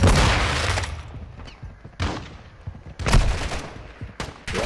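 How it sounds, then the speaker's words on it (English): Gunfire from AI-controlled enemies in the Warzone shooter game, several loud bursts and single shots at close range with gaps of quieter ambience between them, and no talk over it. "AI shooting at me, bro"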